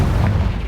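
A Confringo fire-blast spell from the Hogwarts Legacy video game detonates as a loud, deep boom with a rumbling low-end roar that stays heavy and sustained through the short burst.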